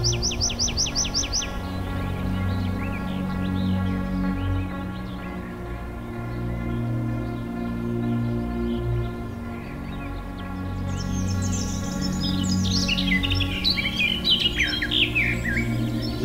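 Birds sing and call steadily through a Dutch nature area in the Lende valley near Wolvega, with bright chirps and trills over a low continuous background hum, a burst of rapid twittering near the end.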